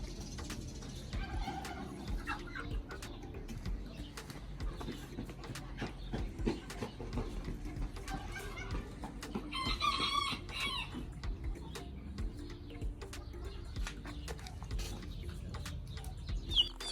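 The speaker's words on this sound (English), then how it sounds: "So we have a little pullet and cockerel, same variety" Young chickens, a small pullet and cockerel of the same breed, cluck softly and give a thin crow in a quiet farmyard, with scattered faint background noises and no talking.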